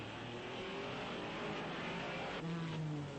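A Porsche race car at the 1961 Belgian Grand Prix at Spa roars steadily in faint, distant archival sound, with its engine note rising slightly near the end.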